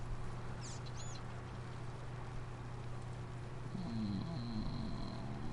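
Birds chirp faintly in Farming Simulator 19 gameplay: brief high tweets early on and a sustained thin whistle near the end, over steady rain-like ambient noise.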